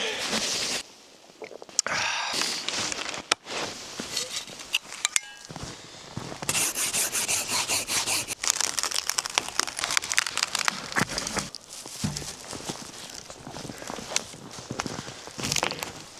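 Crunching footsteps through fresh snow in sub-zero woods while gathering firewood, an uneven run of close steps with occasional snaps and rustles, broken by brief pauses.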